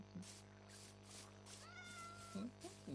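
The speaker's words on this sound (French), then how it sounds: "C'est le petit chat." A cat meows softly several times, with short faint cries scattered over a steady low hum and some quiet background music, heard from a French cartoon episode.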